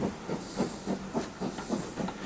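A steam locomotive at London Paddington station works out of the platform with a train, giving a rhythmic run of soft, hissing exhaust chuffs at a steady, moderate pace, fairly faint and in the distance.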